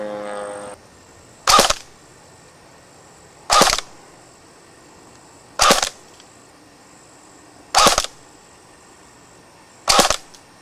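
A TSD SD 45 airsoft gun fires five single sharp cracks, evenly spaced about two seconds apart, close and loud over a quiet background.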